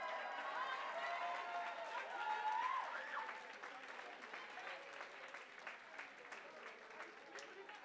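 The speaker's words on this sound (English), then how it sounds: "Y'all can clap your hands" An audience at a ballroom ball event claps along, a bright, sustained patter of many hands with some voices and crowd noise mixed in, swelling briefly early then continuing at a slightly lower, uneven level.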